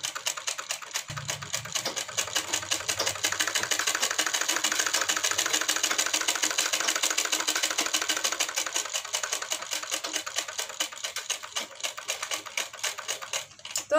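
A sewing machine runs continuously, stitching a Patiyala salwar mohri (poncha), with a fast, even mechanical chatter that stays loud and close for the whole stretch and has no talk over it.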